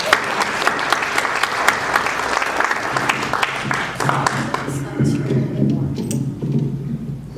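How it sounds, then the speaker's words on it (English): Lively applause at a political forum for Ann, a crowd clapping strongly before thinning out, with talking rising over the tail end. "I just want to give a round of applause to Ann right away"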